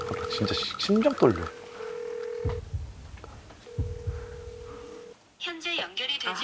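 A telephone dials out to call a friend: a short run of steady electronic dialing and ringback tones, bright and clear, alternating with excited talk in Korean.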